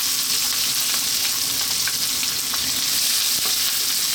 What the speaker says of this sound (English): Let's drop in our onion.